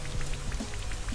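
Steady patter of rain falling from the Rain Dance move in a Pokémon VGC battle, a continuous wash of drops with soft repeated splashes, no talking over it.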